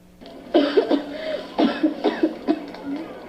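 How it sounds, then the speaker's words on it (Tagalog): A child coughs in several short bursts, three clusters of hacking coughs close to the listener, with quiet between them. "bakit inuubo na naman ang anak mo?"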